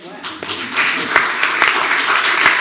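Applause breaks out from the audience at a Hazel Park city council meeting, dense clapping building over a couple of seconds with voices mixed in.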